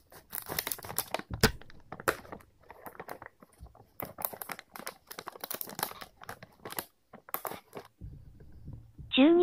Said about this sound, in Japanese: 続いて、2袋目を開封します。